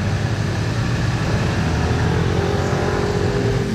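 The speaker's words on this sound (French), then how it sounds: "L'échappement il sonne bien effectivement." A hypercar's exhaust drones loudly and continuously at close range, a dense low engine roar holding steady throughout without distinct gear changes, no voices over it.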